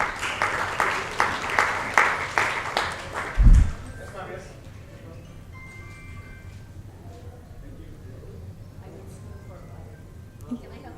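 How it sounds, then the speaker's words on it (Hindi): Applause and clapping from an audience greeting an international guest of honour at a poetry and open mic awards event, several loud bursts of claps over the first few seconds, then fading into quieter room noise. "जोरदार तालियां मैम के लिए"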